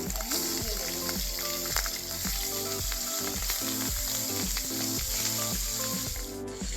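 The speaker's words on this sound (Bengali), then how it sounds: "এবার আমি মাছগুলোকে ভেজে নেব একটা একটা করে মাছ" Pabda fish frying one at a time in hot oil, giving a loud, dense, continuous sizzle and crackle close by, with no voices.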